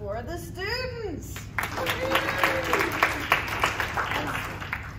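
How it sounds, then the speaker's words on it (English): Round of audience applause for students at a panel event on sexual assault, crowd clapping building after a brief spoken moment, with voices mixed in under the steady clapping. "And we'll do a round of applause for the students."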